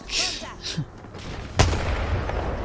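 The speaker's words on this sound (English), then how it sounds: "Kraber headshot by a freaking noob lifeline with 2 kills" A Kraber sniper rifle fires a single sharp, heavy shot in the video game Apex Legends, a close boom landing mid-clip amid game ambience and brief electronic tones, without speech.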